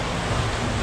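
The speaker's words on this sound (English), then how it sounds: "You can hear me over the sound of the water." Steady rushing of flowing water, a continuous broadband wash with no breaks, fairly loud and close.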